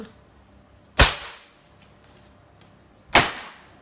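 A macaron baking tray of piped batter is dropped onto a kitchen counter twice, giving two sharp, loud bangs about two seconds apart, each with a short ringing decay, with near silence between them.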